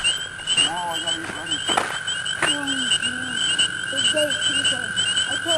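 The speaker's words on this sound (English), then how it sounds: "Who are they calling out to, all these froggies? Little peepers." Spring peeper frogs call at Moody Pond in a steady, loud chorus of high piping peeps with scattered nearby croaks, while a voice talks faintly underneath.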